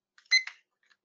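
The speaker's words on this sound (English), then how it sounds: "what you hear is my alarm ticking off" A phone alarm going off during an online webinar presentation: a short, faint burst of bright electronic tones lasting about half a second, followed by a brief quieter blip, with no one talking over it.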